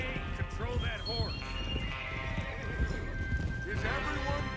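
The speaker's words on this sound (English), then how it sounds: "Hey, control that horse." A horse in the video game Red Dead Redemption clip-clops and whinnies, with neighing curls and hoof thuds over a steady game soundscape while people talk.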